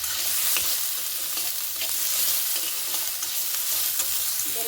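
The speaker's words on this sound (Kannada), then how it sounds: "ಈ ಥರ ಎಣ್ಣೆಯಲ್ಲಿ ಫ್ರೈ ಮಾಡಿಕೊಂಡು ಹಾಕ್ಕೊಳ್ಳಿ" Cloves and cinnamon sizzle continuously in hot oil while the masala for a raw-banana kurma fries, with a loud, even crackle and faint stirring taps, and no voices.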